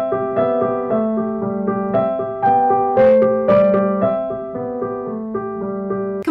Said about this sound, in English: The way that I'm going to show you how to play it today is Jingle Bells Reimagined, or a classier version of Jingle Bells